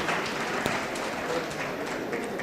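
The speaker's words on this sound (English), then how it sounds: "Please, a round of applause for her." A crowd at a youth opportunity summit in Katsina State gives a round of applause, a continuous, moderately loud patter of many hands with a faint hum of voices underneath.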